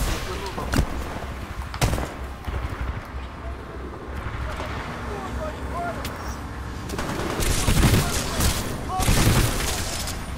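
Gunfire in Titanfall 2 rattles in rapid bursts and sharp single cracks over a busy combat background, growing heavier toward the end, while a person talks over it.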